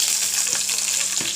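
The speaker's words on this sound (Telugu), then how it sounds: "కొంచెం టమాటాలు పచ్చిపోయేంత వరకు ఇలా వేయించుకుంటూ" Tomatoes fry in a tempering of two tablespoons of oil with urad dal, mustard seeds, cumin, dried red chillies and green chillies, making a constant, close sizzle with a couple of soft stirring taps.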